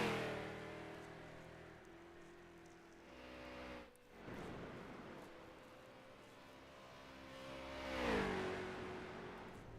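Racing car engine held low in the rev range during an online racing-game race at the Nürburgring, a steady droning hum that swells briefly near the end, with no voices.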